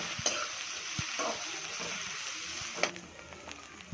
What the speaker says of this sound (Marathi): कढीपत्ता आणि आपला हा जो कांदा आहे तो छान परतून घ्यायचा आहे